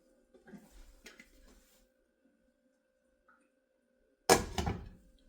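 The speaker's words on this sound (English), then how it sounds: "Now we lid it and we let the eggs cook" A lid is set onto a pan of shakshouka with eggs cooking in the sauce, giving one sharp metallic clank with a brief rattle near the end, after quiet kitchen handling noises.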